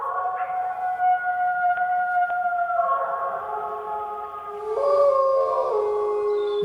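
Wolves howling at the ABQ BioPark zoo in Albuquerque: several long, sliding howls overlap and rise and fall, loud and close, with a second voice joining toward the end.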